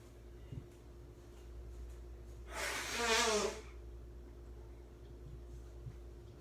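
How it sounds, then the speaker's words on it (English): One loud, wet honk of a nose being blown, lasting about a second over a quiet room hum. "Sorry, I had to blow my nose."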